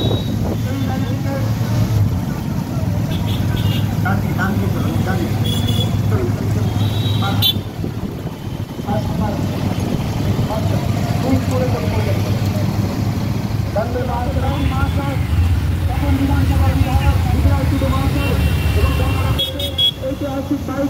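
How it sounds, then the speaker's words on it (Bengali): A long bike rally of many motorbikes moving slowly along a road from Balurghat toward Gangarampur, with a steady loud engine drone, occasional horn toots, wind buffeting the microphone and a voice talking over it throughout. "ঐতিহাসিক বাইক র্যালি ধীরে ধীরে এগিয়ে চলেছে বালুরঘাট থেকে বের হয়ে গঙ্গারামপুরের অভিমুখে।"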